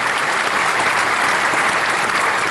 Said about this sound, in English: Do the applause thing.